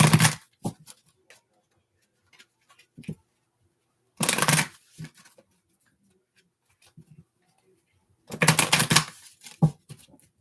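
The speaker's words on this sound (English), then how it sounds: "One more shuffle." Tarot cards shuffled by hand in three quick bursts of crisp, papery riffling spaced a few seconds apart, close and clear against near silence.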